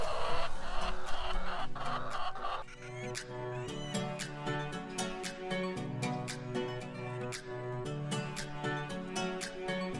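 Chickens eat partly frozen corn in a farmyard, with repeated close clucks and sharp pecking taps in a busy, irregular rhythm over a low background.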